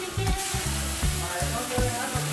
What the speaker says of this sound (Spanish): Mi hermana Emilia que le está dando con toda esa espátula